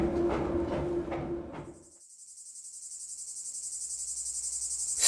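A cicada gives a loud, steady buzzing drone with a faint pulsing, rising in after a brief quiet spell, while other sounds cut off early on.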